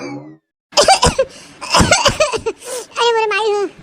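A cartoon character coughs in a few rough, bursting fits between vocal sounds, close and loud, with a brief silence near the start.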